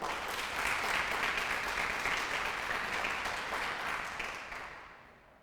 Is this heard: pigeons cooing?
no